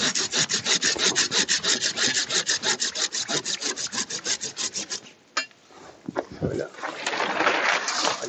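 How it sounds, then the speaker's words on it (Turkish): Rhythmic back-and-forth strokes of a hand saw cutting through a date palm branch, steady and close for several seconds, then breaking into irregular scrapes and pauses with birds faintly in the background. "ben ağacın hemen budağın üzerinden yaklaşık 7-8 santim veya 10 santim üzerinden kesiyorum"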